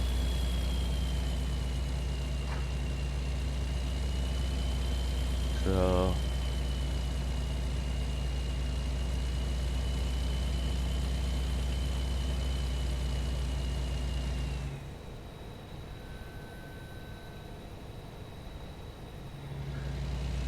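A truck engine in American Truck Simulator hums at a steady low idle-like drone for most of the stretch, with a brief passing rattle, then drops to a quieter rumble near the end; a voice speaks briefly.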